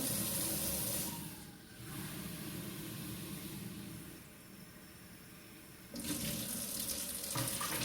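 Kitchen tap running lukewarm water into a sink for no-knead bread dough, a steady close rushing stream that softens midway and strengthens again near the end.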